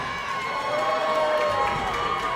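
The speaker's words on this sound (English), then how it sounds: "earning an impressive chant from this crowd at the Mill, sold out in Granite City" A sold-out wrestling crowd in a packed hall roars and chants after a dive over the top rope, a loud, sustained wall of voices with a commentator talking over it.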